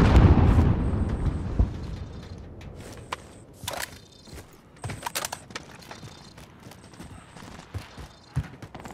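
A grenade explodes in Call of Duty Warzone with a heavy boom at the start that fades into a rumbling tail, followed by scattered clanks and mechanical clatter.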